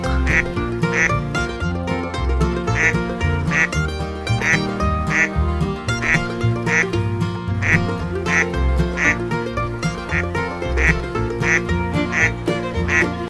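A duck quacks repeatedly in an even rhythm, roughly once every second, clear and close over continuous farm-themed background music.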